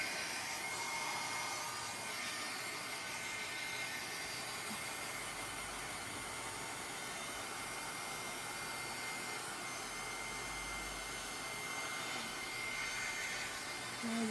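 A handheld heat tool blows a steady, even whoosh of hot air to dry paint on journal paper, continuous and close, with no talking.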